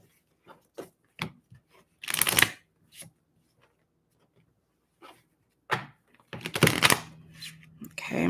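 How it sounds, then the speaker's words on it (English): Tarot cards being split-deck shuffled: two bursts of rapid riffling flutter, each lasting about a second, separated by scattered soft taps and handling clicks, close and fairly quiet. "I'm gonna do a split deck shuffle"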